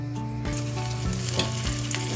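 Chicken wings sizzle and crackle steadily in preheated oil, a dense, continuous frying hiss with small pops, close and fairly quiet, no voices over it.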